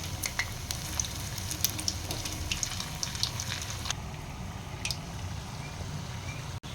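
Idli batter bondas frying in hot oil, giving a steady close crackling sizzle with scattered pops that runs throughout, then softens slightly toward the end.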